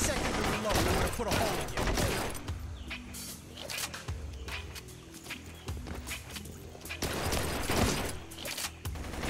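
Desert Eagle pistol fire in the video game Blue Estate, a dense volley of loud, sharp reports bunched at the start and again near the end, with game noise and footsteps-like thuds filling the middle.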